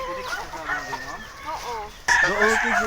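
Chickens cluck close by in short, busy bursts, then a rooster crows loudly, its call rising over the flock.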